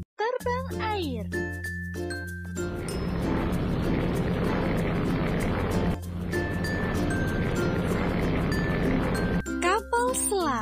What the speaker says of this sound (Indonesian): Pesawat terbang air.